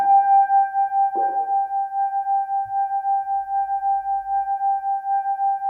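A sustained electric guitar note, extended by looping a sampled part, hums steadily with a faint pulsing wobble and a brief scratchy attack near the start, alone and fairly quiet.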